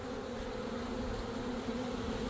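Honey bees mass inside a newly installed hive, making a dense, steady buzzing drone. The sound is close and continuous, with no voices.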